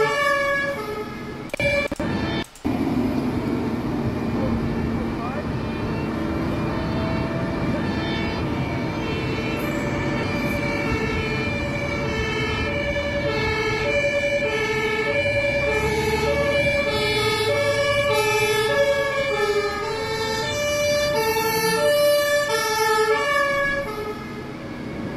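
Ambulance siren wailing continuously as it pushes through a blockade of traffic, loud and close with a steady two-tone pattern over road rumble and engine noise, holding for the whole stretch.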